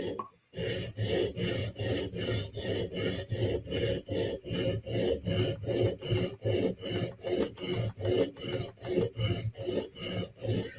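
A Steel Will flipper knife blade is drawn across a sharpening stone in steady, evenly spaced rasping strokes, about two per second, close and clear with no talking.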